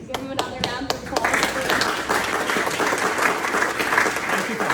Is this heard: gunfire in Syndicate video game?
no